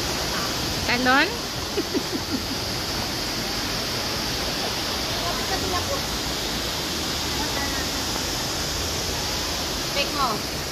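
Constant rushing roar of a waterfall in Singapore fills the background, with brief distant voices and whistle-like calls breaking through near the start and end.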